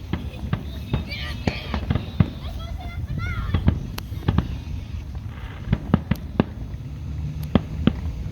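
Fireworks at a small-town summer fiesta, 2021, bursting in irregular sharp bangs and crackles at a distance, some echoing, under ongoing crowd chatter and people talking nearby.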